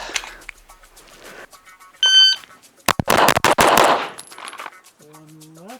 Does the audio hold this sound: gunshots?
yes